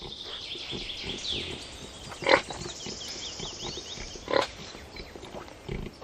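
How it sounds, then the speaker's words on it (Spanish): A pig trained to hunt truffles grunts and snuffles close by, with two sharper squeals standing out above a low, continuous rustle. "En Italia y Francia, países productores de trufas, hace siglos que se adiestran cerdos para localizar trufas."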